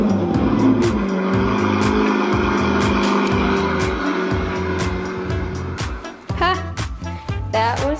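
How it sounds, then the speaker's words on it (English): A self-balancing Lamborghini hoverboard starts up and plays a loud Lamborghini engine sound effect: a steady revving drone with repeated throbbing pulses, close and continuous, ending in a few short squealing chirps. "It's supposed to make a Lamborghini sound."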